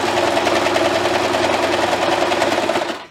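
Sewing machine runs a straight stitch through fabric for a reversible Christmas tree skirt, a loud, even mechanical whir with rapid needle rhythm that continues steadily before cutting off abruptly at the end.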